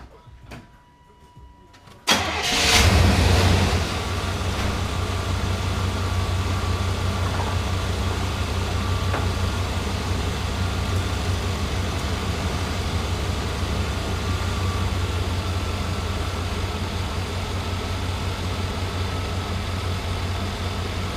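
A Chevrolet Silverado pickup's engine cranks and fires after about two seconds of near silence, flares up briefly, then settles into a steady, fairly loud low idle for the rest of the clip.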